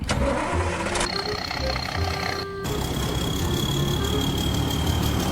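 A Tamco S7000 rice harvester's large engine in a farming video game cranks and catches, then settles into a steady mid-pitched idle with a faint whine, recorded close and loud.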